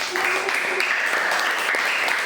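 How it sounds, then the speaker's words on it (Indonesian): Applause in a classroom after a student group's presentation in an Islamic education lesson, a thick, even clatter of many hands lasting a couple of seconds, with faint voices mixed in. "tepuk tangan untuk kelompok 3"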